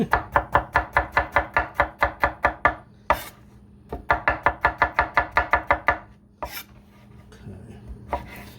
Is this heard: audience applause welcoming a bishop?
no